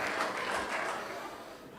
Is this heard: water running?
no